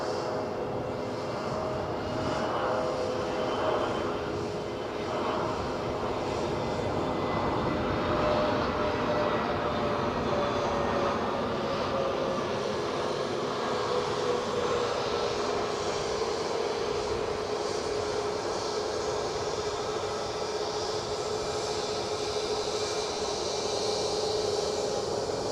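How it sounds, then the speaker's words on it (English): An easyJet airliner arriving at Edinburgh airport from Alicante gives a steady, sustained jet roar at moderate distance that holds evenly throughout. "EasyJet inbound from Alicante is your next bit of action"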